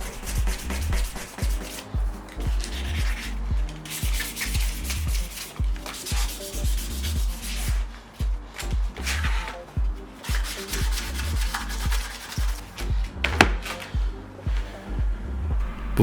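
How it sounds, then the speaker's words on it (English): Hand-sanding a Nissan S15 Silvia rocker cover with 400 grit sandpaper, a steady rhythmic scrubbing of repeated back-and-forth strokes, close and continuous with no talking. "just hit with a bit of sandpaper and then just scuffed the whole cover"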